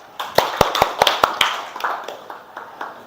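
Hand claps from a small group, a burst of sharp, close claps that quickly thin out and fade over a few seconds.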